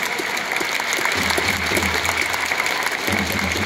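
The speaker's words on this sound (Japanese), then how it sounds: "皆様今一度盛大な拍手をお願いいたします。" Stadium crowd applauds steadily at a retirement ceremony for a Japanese footballer, a dense, continuous wash of clapping with a low hum underneath throughout.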